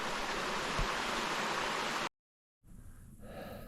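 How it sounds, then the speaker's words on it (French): A small mountain stream on the trail heights above Gérardmer in the Vosges gives a steady, close rushing burble. It cuts out abruptly for half a second, then returns quieter and thinner. "On arrive près d'une petit ruisseau"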